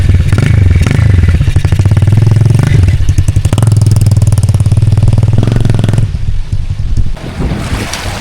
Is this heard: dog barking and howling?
no